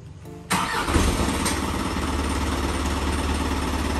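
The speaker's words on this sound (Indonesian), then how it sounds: "mesin nyala" A truck engine cranks briefly and catches, then settles into a loud, steady rumbling idle with a rattling mechanical texture.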